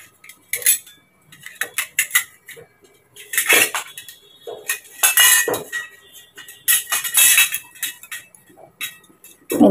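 A small metal spatula clinks and scrapes against an iron wok while oil is spread around it, sharp irregular metallic strikes in quick bursts with short pauses between, close and clear.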